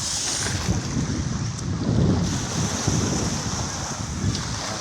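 Steady wind blowing hard across an open beach at Lobo, Batangas, with constant gusty rushing and surf washing in the background.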